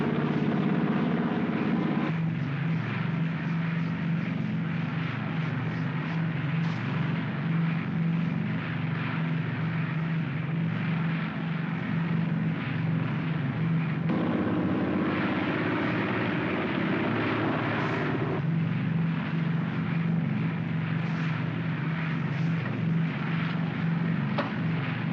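Airplane approaching to land in 1950, a steady, continuous propeller-engine drone that swells and eases slightly in long stretches, heard alone without talking.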